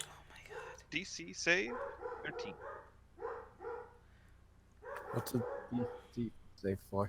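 Pet dogs bark and yip intermittently in the background of a tabletop Dungeons & Dragons voice session, several short bursts mixed under continuous conversation among players.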